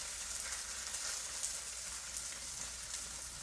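Korean seafood pancake batter with chicken and shrimp frying in a pan, giving a steady, even sizzle and crackle of hot oil that holds constant throughout, close and moderately loud with no talking.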